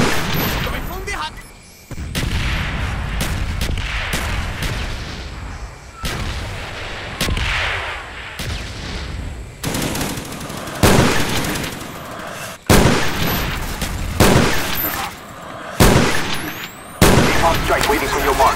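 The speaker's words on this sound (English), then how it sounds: "Friendly mortars inbound." Mortar strikes pound a video game battlefield, repeated heavy booms and blasts landing in irregular bursts over steady gunfire, with radio-style voices talking in between.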